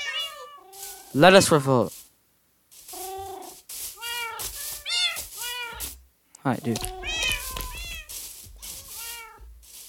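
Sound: cats meowing in video game Minecraft

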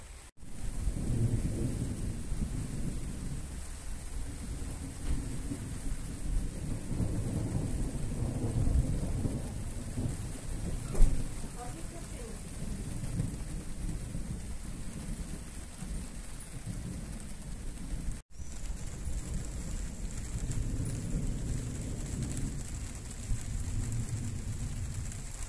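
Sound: thunderstorm with rain

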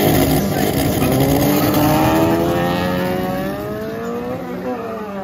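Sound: VW Passat car accelerating in a race

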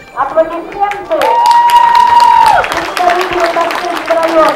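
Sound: applause for Tashlinsky district team at horse sports event

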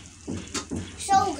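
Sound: water being added to sinigang pot

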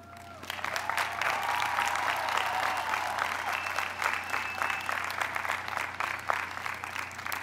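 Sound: audience applause for graduates

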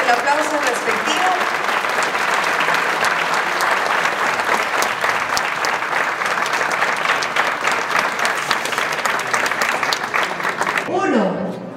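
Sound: audience applause at graduation

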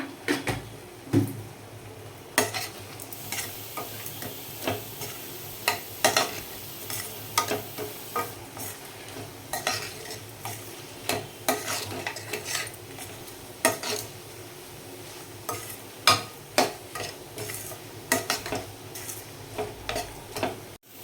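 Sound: stirring food in cooking pot

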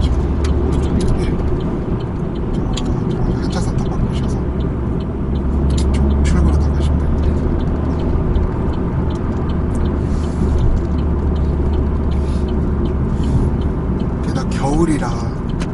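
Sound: Chevrolet Aveo manual car driving, road and wind noise

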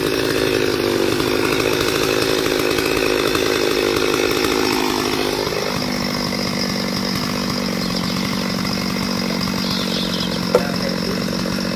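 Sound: sawing oil palm tree with chainsaw

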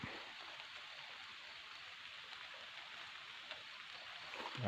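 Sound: light rain falling

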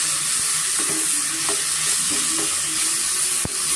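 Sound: frying tomato and spices in oil for sprouted horse gram sambar

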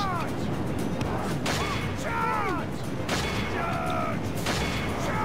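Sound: archers shooting volleys in battle, Total War: Three Kingdoms video game

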